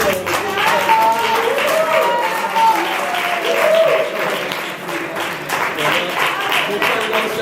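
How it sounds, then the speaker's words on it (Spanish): A conference audience breaks into sustained applause, dense continuous clapping heard close and loud with a voice talking over it. "Yo quiero pedir un gran aplauso"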